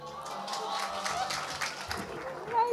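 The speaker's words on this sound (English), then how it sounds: "I think he needs a better round of applause than that." Faint, scattered hand clapping from an audience at a Hindu religious gathering, the final night of a Bhakti Gyan event, continues steadily for a few seconds with some low voices underneath.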